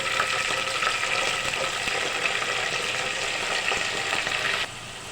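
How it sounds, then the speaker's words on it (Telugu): Chopped onions and green chillies frying in a pan of chicken, a loud, dense, continuous hiss of hot oil that drops off slightly near the end, with no talk. "నెక్స్ట్ ఉల్లిపాయలు, పచ్చిమిరపకాయలు 2 కలిపి వేస్తున్నాను."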